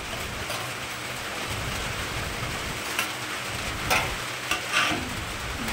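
Mutton frying in oil in a pan for a spicy curry while being stirred, a continuous crackling sizzle with occasional louder scraping stirs, close and steady, no talking.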